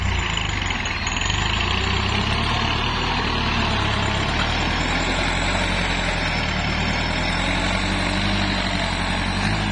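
A hired farm tractor engine running in a Thai rice field, a steady loud droning idle with a low mechanical hum throughout and no speech.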